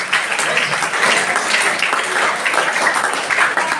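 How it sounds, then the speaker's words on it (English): A roomful of 10th-class students at a public school applauds steadily, a dense, loud wash of clapping holding without pause. "Big applause to all of you and your friends"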